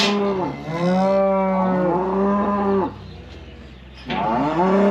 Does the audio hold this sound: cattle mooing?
yes